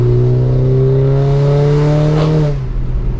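An Audi A4 with a K04 turbo, methanol injection and about 330 wheel horsepower downshifts and accelerates, its engine note climbing steadily and loudly from up close for over two seconds before easing off, with no talk.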